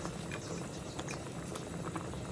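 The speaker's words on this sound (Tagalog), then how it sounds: "Ayan, kumukulo na." Chicken tinola broth bubbles steadily in a pot, a dense continuous rolling boil with small pops and patter, close and even, no talk.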